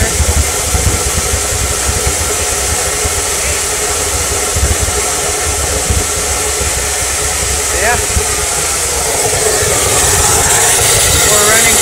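Steam engines running in an oil-fired steam plant, a loud, continuous mechanical drone and hiss that holds steady throughout with a dense low rumble beneath.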